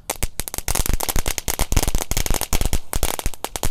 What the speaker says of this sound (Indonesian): selanjutnya kita nyalakan mercon flower power air mancur pretek bola warna-warni